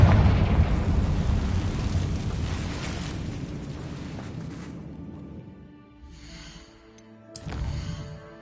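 In the Hogwarts Legacy video game, a Confringo spell bursts with a rumbling, explosive blast that rolls off and fades over several seconds, followed by quieter game sounds and a short rising swell near the end.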